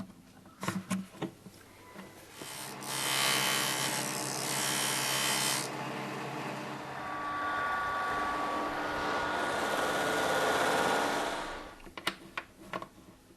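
A bone saddle for an acoustic guitar is sanded or filed in long steady broadband rasping strokes, close and loud, with brief tapping handling noises at the start and end.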